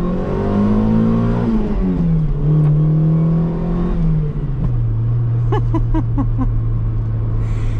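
A Toyota Sera engine hums and revs from inside the cabin while driving, the note rising then dropping with gear changes, loud and close with road noise beneath and no talking.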